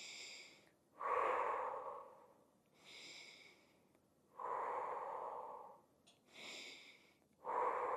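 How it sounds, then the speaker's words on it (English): Slow paced breathing during a fascial exercise class, each breath drawn in through the nose and pushed out through the mouth, a soft airy inhale then a louder hushed exhale, repeated three times, close and alone. "let's breathe in through the nose, 3 and out through the mouth for 3 breaths"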